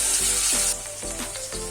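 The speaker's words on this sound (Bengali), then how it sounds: "আলুগুলো একটু লাল লাল করে ভেজে নেব।" Potatoes frying in oil in a wok, a dense, steady sizzle that fills the short stretch close up, easing slightly partway through with faint stirring scrapes.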